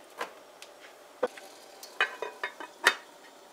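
Goat curry cooking in a pot, Guyanese style, with sparse clinks and soft sizzling ticks as it is stirred, quiet and close with no talking.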